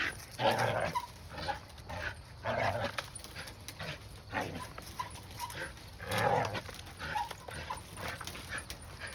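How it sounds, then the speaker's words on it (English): A dog whimpers and whines in repeated high, strained bursts, close by, over a steady hiss of background noise. "That's my dog."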